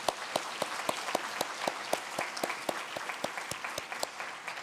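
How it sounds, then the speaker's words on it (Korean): A church congregation at a Sunday service claps in a steady, evenly spaced rhythm, each sharp clap standing out over a soft crowd background, moderately distant and without speech. "옆에 앉아있는 우리 자녀들 응원하면서 큰 박수로"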